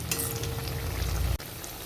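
Bottle gourd pakoras deep frying in oil over a high gas flame, a continuous close sizzle that drops abruptly near the end.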